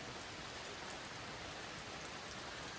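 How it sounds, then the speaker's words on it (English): Steady rain falling at Clear Creek State Park campground in Sigel, Pennsylvania, a continuous dense hiss of drops with no pauses and no voices. "Yep, still raining."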